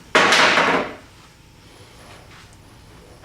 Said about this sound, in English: Take a hammer and push it through.